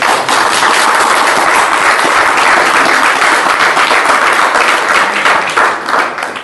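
A church congregation claps and applauds loudly and continuously, a dense roar of many hands that holds steady throughout and only starts to fade at the very end.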